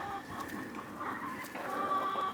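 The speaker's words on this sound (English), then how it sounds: "they're pretty healthy, happy looking chickens" Backyard hens cluck steadily in a winter coop, a soft continuous murmur from several birds close by with no voices over it.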